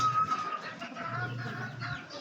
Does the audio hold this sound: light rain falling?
no